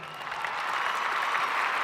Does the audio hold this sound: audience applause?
yes